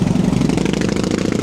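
Loud car engines rumble on a street in Machynlleth, Wales, a close, steady, throbbing drone that lasts briefly.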